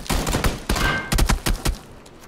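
Rapid bursts of gunfire in the PUBG battle royale game crack out in a close, loud sequence of sharp shots with short gaps between them, heard alone with no talking.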